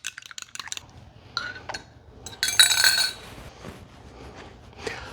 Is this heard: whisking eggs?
yes